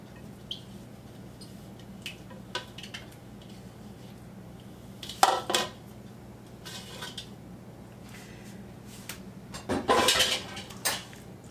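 Clatter of dishes and utensils in a home kitchen as a Tex-Mex tamale pie is scooped into a baking dish and slid into the oven, with scattered clinks and two louder scraping bursts over quiet background hum.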